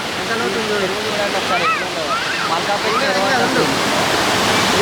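Lake water spills steadily over a weir between Malakpet and Thurkapally like a small waterfall, a continuous broadband rush; voices and what sound like birds or whistles come through faintly on top.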